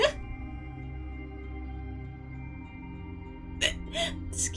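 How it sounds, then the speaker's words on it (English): A person with hiccups: a quiet stretch of steady background hum, then a few sharp, close hiccup bursts in quick succession near the end. "there's the hiccups."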